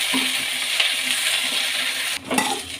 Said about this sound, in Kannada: ಚೆನ್ನಾಗಿ ಹುರ್ಕೋಬೇಕು ಎಣ್ಣೆಯಲ್ಲಿ